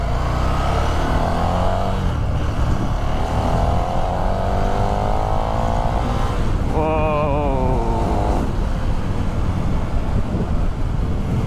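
KTM 1290 Super Duke R motorcycle in street mode, roughly 180 horsepower, accelerating hard as the throttle opens, its engine note climbing in rising sweeps over steady wind rush, loudest through a quick upshift sequence midway.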